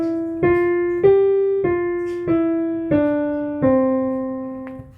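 An ascending five-note pentascale played as clean, separate notes, each struck and left to ring and fade before the next, at a steady, unhurried pace in a quiet room.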